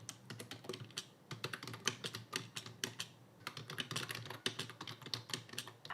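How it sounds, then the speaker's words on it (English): Steady, fast typing on a computer keyboard, close up, with dense rapid key clicks continuing throughout and only brief pauses. "I'm going to type this in English first"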